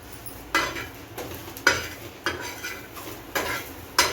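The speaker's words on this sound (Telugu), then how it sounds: "ఇప్పుడు కొంచెం సాల్ట్ వేసుకొని టూ మినిట్స్ వేపుకోవాలి" Bitter gourd pieces frying in a pan with salt, stirred with a utensil: about six sharp metallic scrapes and clanks at a steady rhythm over a faint background sizzle, close and moderately loud, no talking.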